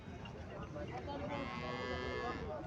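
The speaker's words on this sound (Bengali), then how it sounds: "এখানে একটা দেশি গাভী দেখা যাইতেছে" A native Bangladeshi cow at a cattle market in Chandimura, Comilla, lowing in a faint, drawn-out moo heard at a distance against general crowd murmur.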